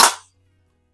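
A single sharp, close crack from a 125-year-old Eisenwerke Gem No. 13 smoothbore air rifle firing a pellet at a can, decaying quickly into silence.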